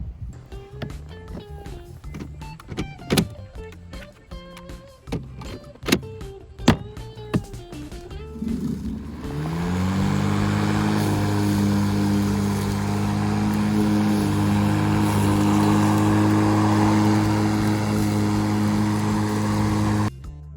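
A battery-powered Makita electric lawn mower: a series of sharp clicks and handling knocks, then the motor spins up and settles into a steady, loud whirring hum as it mows a lawn, continuing unbroken to the end.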